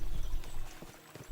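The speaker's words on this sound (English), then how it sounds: "we'll give the horses a gallop again" Horses gallop in the video game Kingdom Come: Deliverance II, a fast, rhythmic clip-clop of hooves moderately close, rolling on with a brief dip before picking up again, without speech over it.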